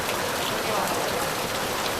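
Sudden unseasonal rain in a Konkan village near Rajapur, a dense steady hiss of heavy downpour drumming on surfaces, loud and close throughout.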